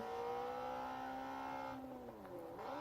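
A speeding car in the Gangstar Vegas video game holds a steady, loud engine drone at constant pitch, then drops and rises again near the end as the motor shifts. No voices break in.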